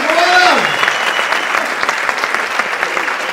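An audience at a comedy show breaks into sustained, loud applause, with dense clapping filling the room after a brief voice at the start.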